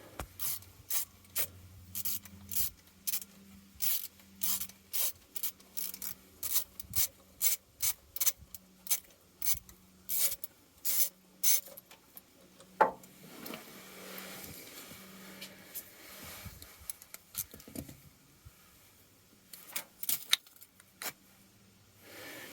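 A priming pump being unbolted on a diesel bus, heard as a long run of close, rhythmic ratcheting clicks from a hand tool, with scraping metal handling and some looser clanks near the end.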